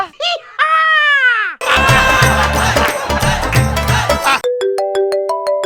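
A cheerful electronic mobile phone ringtone plays loudly, a busy melodic tune with a beat, ending in a short run of chiming notes; brief voice-like sounds open it.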